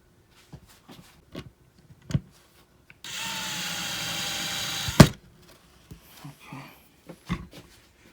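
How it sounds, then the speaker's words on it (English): A power screwdriver whirs in one steady burst of about two seconds while a Farnsworth five-drawer mid-century modern dresser is assembled indoors, framed by scattered knocks and clicks of parts being handled. "There's my screwdriver."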